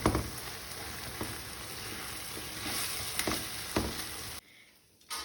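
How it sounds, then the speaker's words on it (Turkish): Cumin and black pepper sautéing in a pan, a soft steady sizzle with a few light stirring taps, quiet and close, cutting off sharply near the end. "Şöyle bir dakika kavuruyorum."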